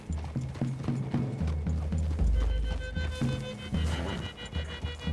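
Video game horses walk in Red Dead Redemption 2, hooves clip-clopping at a walking pace over ground, accompanied by low rumbling tones and faint creaks, fairly close and steady.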